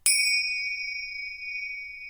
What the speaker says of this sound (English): a great golden ringing sound filled the air